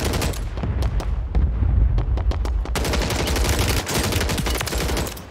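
Gunfire in Call of Duty Warzone: loud bursts of rapid automatic shots, then a denser, nearly continuous volley of cracks and booms that runs to the end.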